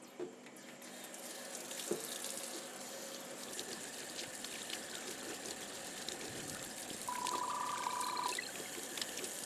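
Tap water runs into a sink as ice-dyed tie-dye fabric is rinsed out after sitting for about a day, a steady near gush with faint splashing and a brief tonal squeak, no talk.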